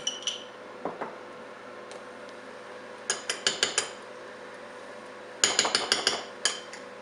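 A spoon stirs relish and mayonnaise in a bowl, making clusters of sharp metallic clinks and taps against the bowl in quick bursts separated by brief quiet pauses, close up.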